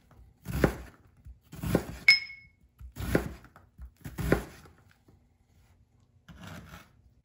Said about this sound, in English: you cut it crosswise, you should be able to get very tiny bits of onion